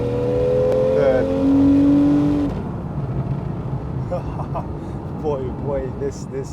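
A Porsche 911 Carrera GTS (991.1), naturally aspirated, pulls hard through second and third gear. The engine howls and rises in pitch, shifts, then climbs again more quietly, recorded close and loud with no talk over it.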